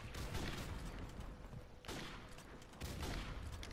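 Dense, rapid gunfire fills a Ground War match in Call of Duty: Modern Warfare Remastered, near and loud bursts running almost continuously with brief gaps between volleys.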